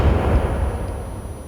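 An in-game explosion from Sons of the Forest, used to blow up a fingers creature in a cave, hits as a single deep boom that decays into a fading rumble.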